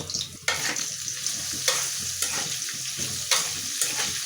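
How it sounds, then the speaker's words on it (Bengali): Eggplant frying in hot oil with salt and turmeric, a loud continuous sizzle up close, punctuated by several sharp spatula scrapes against the pan. "তেল আমার গরম হয়ে গেছে এখন আমি প্রথমে বেগুনটা ভাজি করে নেব"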